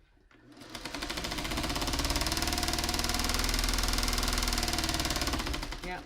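A sewing machine stitches together small quilt block pieces, running at a steady fast rhythmic whir that spins up at the start and holds close and loud for several seconds before slowing.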